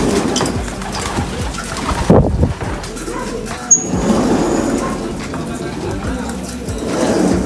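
Pigeons in a Taiwan-style loft coo softly amid rustling, fluttering and scratching, with a few sharp knocks; the sound is close and cluttered, like birds moving around in an enclosure.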